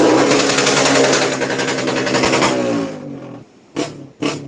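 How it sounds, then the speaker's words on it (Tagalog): A motorcycle engine roars loudly and close during outdoor New Year celebrations in the Philippines, a sustained buzzing revving that drops off, followed by two short sharp revs. "parang galit na galit yung motor"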